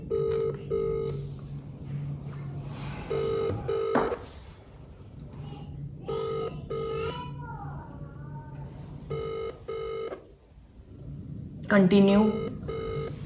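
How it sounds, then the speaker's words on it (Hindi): Outgoing phone call ringing back in repeated tone bursts with pauses between them, someone talking lightly over parts of it, and a short louder burst near the end. "गाइस मैं इसका फ़ोन लगा रही हूँ, लेट्स सी कि ये रिसीव करता है या नहीं"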